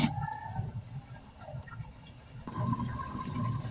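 A pot of pork rib tinola with squash boils steadily, a low bubbling and rumbling that continues throughout, with faint kitchen background noise.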